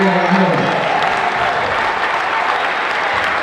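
Basketball crowd applauding on senior night at a Fostoria boys game, a sustained burst of close, dense clapping filling the gym while a voice speaks briefly at the start.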